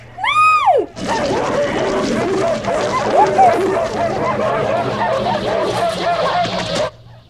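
Dogs from the 1982 film The Thing bark and yelp in a dense, chaotic chorus lasting several seconds, loud and close, mixed with whimpers and film score after an opening tonal sweep.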